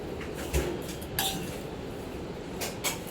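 A spoon stirs vermicelli kheer in a metal pan, producing a few light scrapes and clinks against the pan over a steady background hiss.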